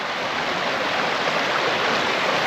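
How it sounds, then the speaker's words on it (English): Small waterfall and stream in Weardale, a steady broadband rush of falling and running water, close and continuous with no pauses and no voices. "Lovely little waterfall that."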